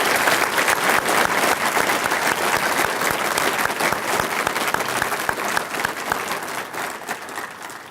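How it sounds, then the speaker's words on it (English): A city-address audience claps for a local honoree, a dense, sustained round of applause that holds steady for several seconds before easing slightly. "Let's give Ron a big round of applause"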